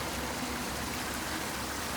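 Rainwater runs down a hiking trail like a stream after heavy rain, a steady, close, broadband rushing and trickling with no voices.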